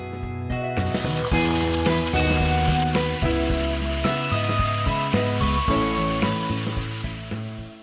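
Cumin seeds and asafoetida sizzling in hot mustard oil in a kadai, a steady loud crackling fry with dense spattering throughout, no talking.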